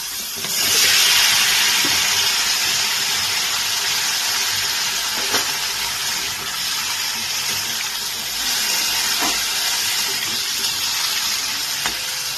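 Papaya pieces sizzle in hot oil in a wok after a radhuni seed tempering for papaya shukto, a steady, loud hiss with a few sharp pops and crackles throughout, no talking.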